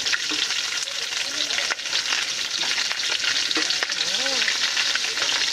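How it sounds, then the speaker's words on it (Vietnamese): Long beans stir-fry in a hot pan, giving a loud, continuous sizzle and crackle close by, with faint voices underneath. "Mình cho cái phần đậu đũa cho mình xào nha."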